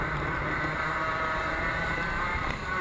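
A racing kart engine recorded on board during a Bee Kleen Grange main event, a steady, loud, high buzzing drone with wind rush for a few seconds.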